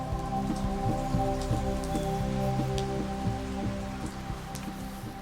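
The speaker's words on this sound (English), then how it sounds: "Most of the chimps aren't bothered by this downpour" A heavy tropical rain downpour pounds steadily on surfaces around a chimpanzee enclosure. A constant dense hiss carries scattered drip and patter accents, with no voices.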